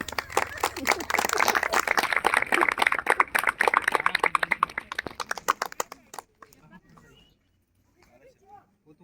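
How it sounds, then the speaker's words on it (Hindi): A group of people clapping hands at an outdoor demonstration, rapid uneven claps for about six seconds, then stopping abruptly, with a few faint voices and movement sounds afterward. "ताली बजाओ।"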